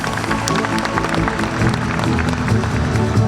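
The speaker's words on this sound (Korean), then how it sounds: "박수 부탁드리겠습니다" Audience applause at a large business conference, dense, steady clapping from many people in a hall, loud and continuous with no voices over it.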